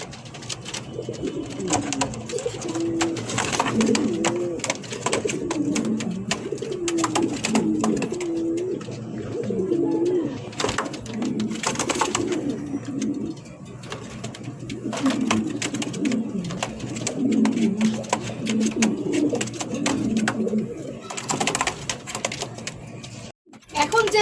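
Black king pigeons coo in a pair, giving repeated low, throaty, rolling calls close by throughout. Someone talks over much of it.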